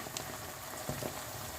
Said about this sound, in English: Let me add my meat and water.